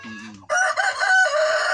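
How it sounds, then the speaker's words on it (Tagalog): A rooster crows loudly and close on a farm in Liloan, Cebu, a long drawn-out call following a few low clucks from chickens at the start. "Grabing mga manok dito."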